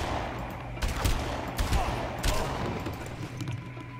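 Bursts of gunfire from the video game Far Cry, a cluster of loud rapid shots in the first half with a few scattered cracks after, set against a steady jungle ambience.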